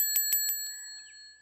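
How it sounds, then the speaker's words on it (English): A small bicycle-style bell rings three quick bright dings in a row, then one softer ding whose metallic tone rings on and fades away, with no talking. "Yeah, that's totally the original bell ring."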